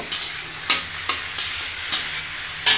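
Garlic tempering frying in hot oil, a steady bright sizzle punctuated by regular stirring scrapes and taps about every half second, close up with no talking.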